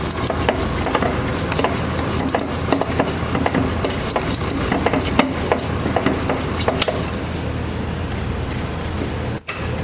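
An electric mixer churns M&Ms and chocolate chips into thick monster cookie dough, a steady, loud whirring with scattered knocks and rattles from the candies, running continuously before stopping abruptly at the end.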